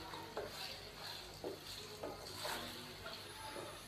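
Chicken pieces being stirred and fried in ginger garlic paste and onion in a pan, with a steady sizzle and repeated scraping stirs of a spoon against the pot.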